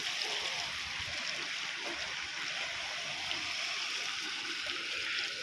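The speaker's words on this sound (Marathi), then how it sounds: "हे बघा पूर्ण ब्रिजला लेवलनी पाणी चाललेलं आहे" Flood water from a swollen river rushes over a bridge deck at road level, a loud, steady roar and gurgle of flowing water close by, with a voice talking faintly underneath.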